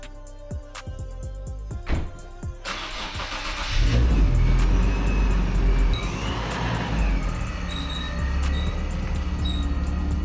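A 500 hp Nissan 370Z Nismo engine clicks and cranks, then starts and revs into a loud, throaty idle with rising and falling engine roar, close by.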